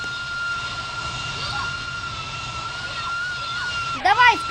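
Airplane engines running steadily at a high, whining drone, close and constant throughout, with a short burst of rising and falling tones near the end.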